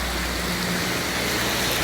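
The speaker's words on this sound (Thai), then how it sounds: "ฝนตกครับตอนนี้นี่ดูครับสภาพอากาศครับผม" Steady rain pours down outdoors in hot, windy Thai weather, a dense, even hiss that holds unbroken and fairly loud throughout, with no voices.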